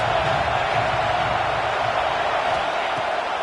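Stadium crowd roaring for the defense on third down at a USC at Penn State college football game, a loud continuous broad wash of cheering with no breaks.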